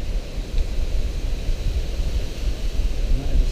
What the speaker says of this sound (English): And that is a strong bit of wind at the moment